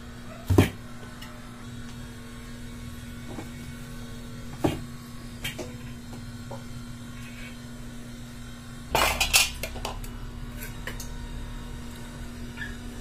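Large cooking pots and dishes are washed at home, with scattered metallic clinks and knocks against a steady low hum and a louder burst of clattering and running water near the end.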